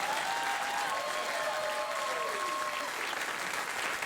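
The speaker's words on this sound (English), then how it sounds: "they will applaud if you tell them what date it is" A studio audience at a late-night talk show breaks into sustained, dense applause that holds at an even, full level throughout, with a faint voice beneath the clapping.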